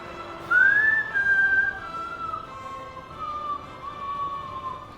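Someone whistles a sustained, gliding high tone that rises briefly and then settles, held steady over a soft steady background hiss, with no one speaking.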